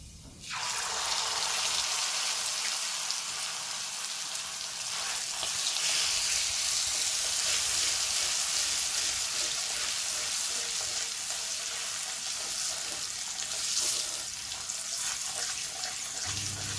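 Cumin seeds and bay leaves sizzle loudly in hot oil for a Bengali rui fish tel jhal tempering, a steady dense crackle that starts abruptly and holds near and constant throughout with no talking.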